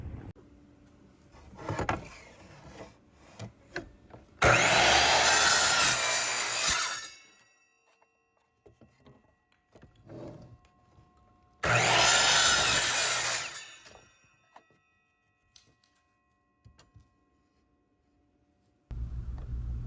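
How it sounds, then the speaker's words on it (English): Two loud bursts of a miter saw cutting through wooden picket boards, each a few seconds long, separated by quieter handling clatter and spin-down whine. "I'm using my miter saw now just to create some angles on the top of these picket boards"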